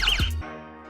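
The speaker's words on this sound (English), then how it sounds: "If the user hits checkpoint 2, it will make a sound like this." Short chime from a security patrol app confirming a correct checkpoint hit, a single bright electronic tone with a falling boing-like pitch that is over in under half a second.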